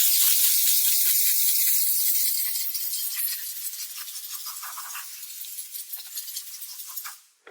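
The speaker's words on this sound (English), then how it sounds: "You can also use the steam cleaner to clean the normal door cards." A steady broad hiss of steam jetting from a steam cleaner nozzle onto car interior plastic trim and door cards, strong at first and then easing, with faint crackles and a brief cutoff at the end.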